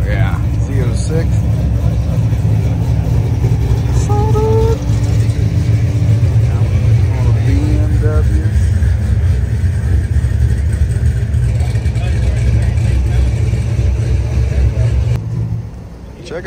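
A Chevrolet Corvette Z06 at a half-mile speed event idles with a low, throbbing rumble and brief revs beneath a crowd's hubbub, while people talk nearby over the engine.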